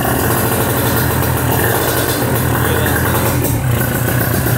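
A Kawasaki Ninja RR two-stroke motorcycle engine runs at a steady, loud idle after starting, with a continuous rattly, buzzing tone and no talk over it.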